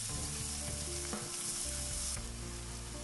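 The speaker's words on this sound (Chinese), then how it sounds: "翻炒至蒜苔断生" Minced meat, garlic scapes and red pepper being stir-fried in a wok, a steady loud sizzle with scraping stirs running through the whole stretch and no voices.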